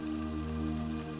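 Steady rain patters continuously on surfaces in a forest, mixed with a low sustained humming drone throughout.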